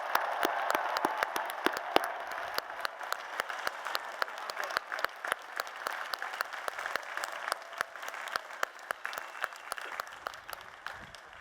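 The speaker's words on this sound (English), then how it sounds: "Let's give them a huge round of applause" Sustained applause from a large commencement crowd honoring graduate degree candidates, dense overlapping clapping that stays steady and loud, with individual sharp claps standing out before thinning slightly at the end.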